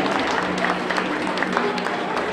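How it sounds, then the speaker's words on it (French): An audience applauds the models at the close of a makeover fashion show, dense, steady clapping from a crowd that carries on without a break at a fairly loud level. "Applaudissements pour nos 15 mannequins, mesdames, messieurs"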